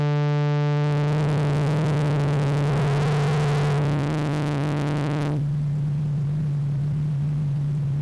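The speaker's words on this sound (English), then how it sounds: "Now, the other thing I've put in since the last time is a noise modulator" Software synthesizer noise modulator emulating old Casio keyboard noise: a buzzy tone with stacked harmonics and a steady low drone, shifting into harsh hiss partway through and ending in a constant noisy rumble, with no talking.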